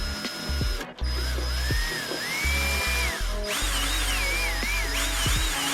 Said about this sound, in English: some more Phillips head screws, so let's get those out